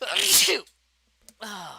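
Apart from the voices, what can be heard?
sneeze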